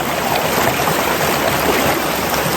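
Water flowing steadily in a shaded stream while a person bathes in it, a continuous close broadband wash with no talk.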